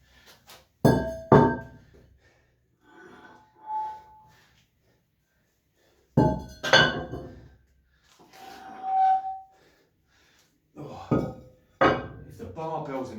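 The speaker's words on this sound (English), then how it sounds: "Barbells are knocking." Cast iron weight plates knocking against a barbell in a gym during a chest and arms session, several sharp metallic clanks in bursts separated by quieter pauses, with faint breathing and clinking between.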